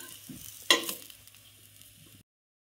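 Cucumber breakfast patties fry in a pan with a soft, low sizzle, a sharp scrape or clatter near the start as a piece is lifted or turned, then a fading crackle before sudden silence.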